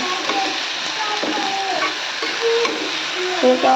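Potatoes, onion, green chilies and dried chilies fry in a pan with a steady broad sizzle and occasional stirring scrapes, close and moderately loud, with no talking.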